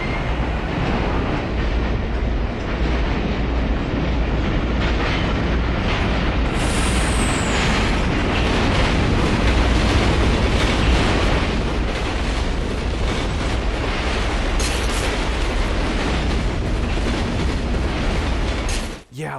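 Dense, loud rumbling train noise from the horror game Condemned: Criminal Origins, a steady layered roar with rattling clatter running throughout and a brief sharp hiss partway, no speech.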